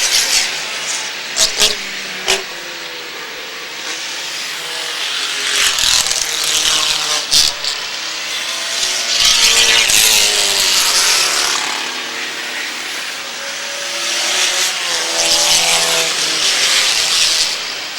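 Stock cars race through turn 3 on an oval track, a continuous loud roar of engines sweeping past with a few sharp clicks and knocks over it.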